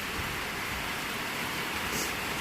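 Steady rain falls outside a small-town RV, a continuous, even hiss of drops with no pauses and no voices.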